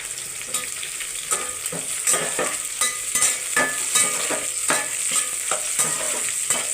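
Onions and three green chillies frying in a pan for chicken biryani, a bright close sizzle broken by regular, fairly loud stirring scrapes every half second or so, with no one speaking.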